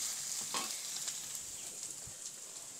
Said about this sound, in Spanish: les voy a poner aquí en el aceite que ya está caliente